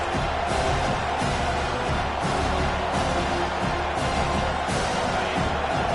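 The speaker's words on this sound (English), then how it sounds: "Listen to this crowd just shaking the girders of this place trying to help their defense." A football stadium crowd roars to back its defense on a third down, a loud, continuous rumble of massed voices that swells in waves and fills the space.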